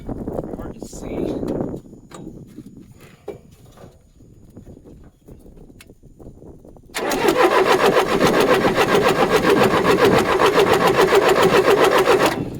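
Engine of a 450 dozer cranking on a low battery: early sluggish cranking and clunks under a voice, then from about seven seconds a loud steady rhythmic starter churn close by.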